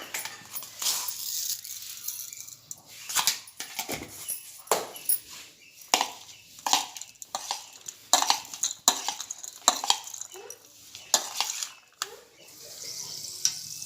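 Curry leaves fry in hot oil for sabudana khichdi, giving off a string of sharp, irregular crackling pops and spits that come close and fairly loud, with no talking.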